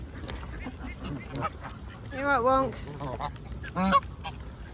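Grumpy geese honk in a series of loud, close, nasal calls amid a bird rescue yard, with a second burst near the end; a person talks softly between the honks.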